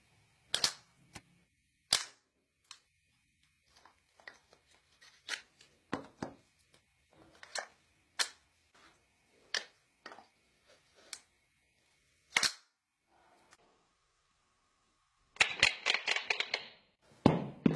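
A homemade rubber band machine gun fires sharp, snappy clicks one at a time with uneven gaps, then ends in a quick rattling burst of rapid shots, close and clear against a quiet background.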